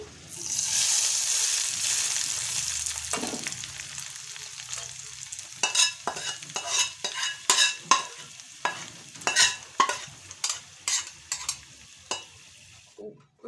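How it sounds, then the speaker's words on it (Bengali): Hot spiced oil poured over coriander leaves for a pickle gives a loud, steady sizzle, then settles into a series of close scraping stirs and clinks. "এখন আমি ধনে পাতার ভিতরে এই তেলটা দিয়ে দিচ্ছি"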